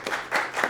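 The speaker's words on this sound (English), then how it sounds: "A big round of applause to you," An audience at a talk on graphic installations and social justice gives a brief burst of applause, a few overlapping waves of clapping hands heard close and fairly loud.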